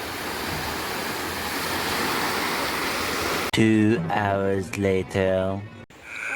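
Sea waves surge and wash steadily at Vijaydurg beach, a loud, continuous roar of surf that runs alone for a few seconds before people begin talking over it.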